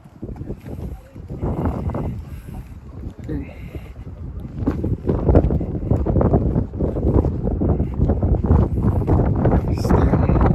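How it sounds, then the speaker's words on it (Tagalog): Strong wind by the sea on Bray Head in Wicklow, Ireland, roaring and buffeting against the microphone in heavy gusts with little pause, loud and close throughout. "Basta yung dagat niya, lakas ang hangin. Sobrang lakas."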